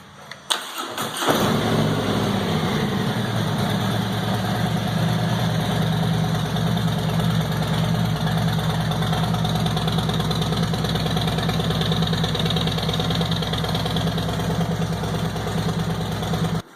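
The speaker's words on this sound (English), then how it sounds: "I put Vance & Hines slip-ons on the bike shortly after I got it to give it a little extra pop." A Harley-Davidson Street Glide Special motorcycle engine with Vance & Hines slip-on exhausts cranks and starts with a thump, then settles into a loud, steady, throbbing idle that runs close by until the end.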